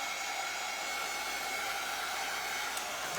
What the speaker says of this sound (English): let me dry it with my janky heat gun